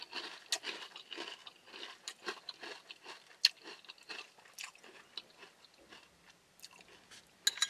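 Someone bites into Jolly Rancher candy cereal, a sweetened crunchy cereal, producing close, irregular crunches and chewing with sharp cracks scattered among softer munching.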